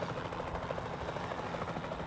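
A helicopter flies in a Jurassic dinosaur park video game, its rotor giving a steady, rapid chopping thrum at moderate loudness, continuous and even throughout without any talking over it.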